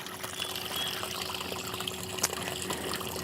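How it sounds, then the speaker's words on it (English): Water from a garden pond is pumped up and spills over a small waterfall, producing a steady, close trickling and splashing flow that runs without a break. "It's piped then around through the pump and up through the waterfall."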